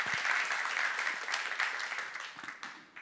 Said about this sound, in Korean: 박수 하나 더 했어요